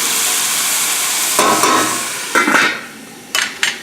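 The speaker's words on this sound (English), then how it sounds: "You can hear the sizzling" Sausage and peppers sizzle steadily in a pan, with a few scraping stirs and clinks of a utensil against the pan.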